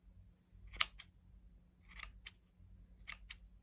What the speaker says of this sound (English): Fluff it out first, and then give it a trim.